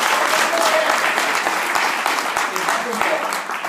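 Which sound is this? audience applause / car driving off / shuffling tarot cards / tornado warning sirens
audience applause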